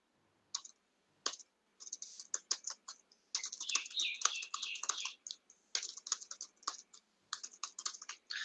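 Hindi text is typed into Word on a computer keyboard, close and clear, with quick bursts of key clicks separated by short pauses and a denser run in the middle.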